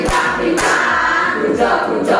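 A classroom of students performs the 'tepuk bintang' star clap routine, loud close group voices and claps rising in a few strong bursts.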